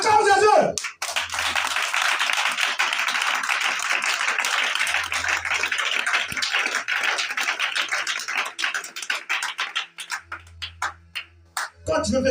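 A church congregation claps rapidly and loudly in rhythm for about ten seconds, then the clapping thins into scattered claps, with voices mixed in.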